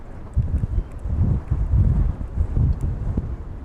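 Gusty wind buffeting the microphone at East Midlands Airport, low rumbling bursts that rise and fall in uneven waves.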